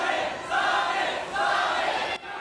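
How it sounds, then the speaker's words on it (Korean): Fans chant Son Heung-min's name in Hong Kong, two swelling waves of massed voices from a sizeable crowd carrying at a steady level, with a sharp drop right at the end. "그제 홍콩에 도착한 손흥민이 가는 곳마다 팬들은 소리를 연호했습니다."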